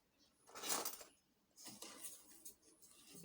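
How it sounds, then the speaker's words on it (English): Flour, sugar, salt, baking powder and baking soda being stirred together in a bowl for an oil-based red velvet cake: soft scraping and clinking strokes in a few short bursts, quiet and close. "Then I'll give a very good mix."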